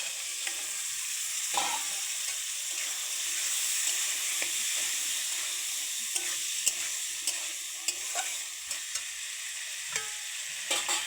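Chickpeas stir-fried in a cooked spice masala, a continuous close sizzle with repeated scraping and tapping of a spoon against the pan, no voices.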